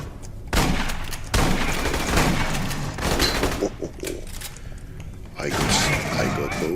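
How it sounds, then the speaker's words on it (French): Shotgun blasts in the video game Aliens: Colonial Marines, a string of loud booming shots in quick bursts with game effects, while someone talks over the gameplay. "Je passe en mode bâtiment, fusil à pompe."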